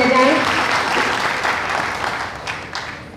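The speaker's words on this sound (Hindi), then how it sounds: "जोरदार जिसने भी बंदर जोरदार तालियां अवश्य बजाए।" An auditorium audience at an honouring ceremony for an Odisha folk arts troupe breaks into loud, sustained applause, a thick crowd of clapping that stays steady, with a voice faintly heard at the very start.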